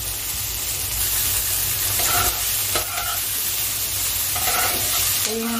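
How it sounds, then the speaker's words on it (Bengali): Chopped onions with salt fry in a pan, giving a loud continuous sizzle and hiss with a few soft stirring scrapes and faint clinks throughout. "পরিমাণ মতো লবণ দিয়ে আমি পেঁয়াজটাকে সুন্দর করে ভেজে নিচ্ছি।"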